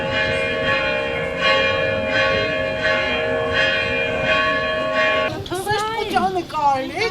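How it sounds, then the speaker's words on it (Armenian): Bells of the Seven Wounds church, facing the Shirak diocese headquarters in Gyumri, toll in a sustained ringing wash with repeated strokes, before a loud voice cuts in over the last seconds. "առաջնորդարանի դիմաց գտնվող 7 վերք եկեղեցու զանգերը սկսեցին պարբերաբար ղողանջել"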